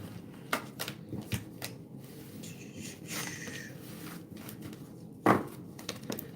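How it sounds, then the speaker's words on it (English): Tarot deck being shuffled at close range, with soft papery riffles and scattered sharp card snaps, one louder slap near the end over a quiet room background. "Let's get these cards shuffled."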